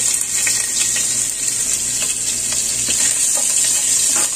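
Ginger fries in hot oil in a home kitchen pan, giving a loud, steady, close sizzling hiss that runs through the whole stretch, with faint pops and crackles and no voices.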